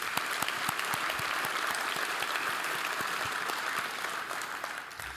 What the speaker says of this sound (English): And a round of applause to these gentlemen,